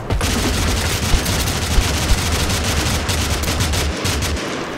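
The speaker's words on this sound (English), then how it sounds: "Rapidly firing machine gun" An anti-aircraft SMG firing nonstop in the game Totally Accurate Battlegrounds, a loud, continuous rattle of very fast shots with a few heavier thumps, ending in a brief pause before the fire resumes.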